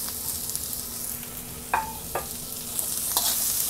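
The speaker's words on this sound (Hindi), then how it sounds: "जस्ट टू मिनट्स के लिए हम अपने वेजिटेबल्स को सौते करेंगे" Vegetables with garlic and spring onion sautéing in a pan for Indo-Chinese veg fried rice, a soft continuous sizzle broken by a few sharp scraping stirs against the metal.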